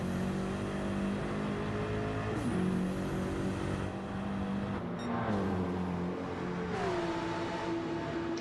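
GR3 race cars lap the Nürburgring Nordschleife in a racing game, engines howling loudly with rising and falling pitch as they shift gears and pass, several cars overlapping.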